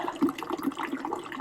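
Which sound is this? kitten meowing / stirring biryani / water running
water running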